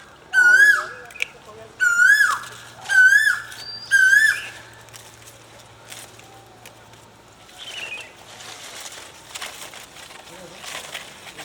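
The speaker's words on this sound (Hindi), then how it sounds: "आवाज़ आ रही है आप लोग को कोयल की?" A koel calls in a rising whistled phrase, repeated four times in quick succession, clear and fairly close in a home garden, followed by quieter scattered sounds.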